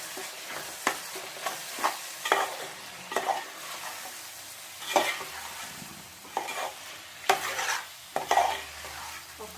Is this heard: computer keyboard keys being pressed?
no